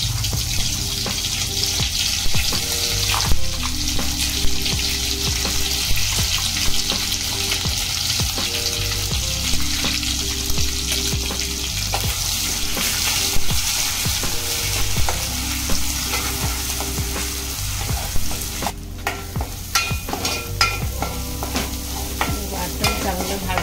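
Ground masala paste fries in oil for a crab curry, a dense continuous sizzle with rhythmic scraping and stirring strokes from a spoon in the pan, close and loud throughout.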